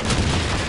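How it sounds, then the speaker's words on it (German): A grenade explosion in the video game Call of Duty 2, a loud, dense, continuous burst of noise that fills the whole brief moment with no separate voices. "Sie wurden von einer Granate getötet"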